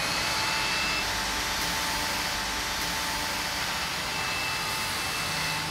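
A cordless vacuum cleaner roars loudly and continuously while picking up fine dust from a hard floor, a dense whooshing motor drone holding steady from start to finish with no voices.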